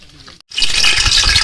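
Roast chicken pieces in oil in a pan: after a brief moment of near silence, a sudden loud, close sizzle bursts out and holds steady to the end.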